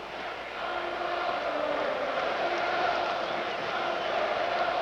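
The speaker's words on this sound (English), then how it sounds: "Almost a collegiate crowd chant. Here we go, Brewers." A large baseball crowd at the 1982 World Series Game 3 between the Cardinals and Brewers chants together, a steady, diffuse roar swelling slightly and heard from a distance.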